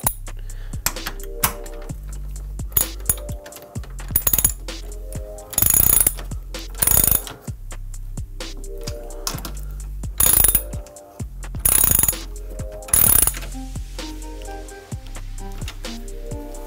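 A ratchet tightens Aerocatch fasteners on a Seibon carbon fiber hood on a Honda Civic. Close, crisp bursts of rapid clicking repeat with short pauses between them.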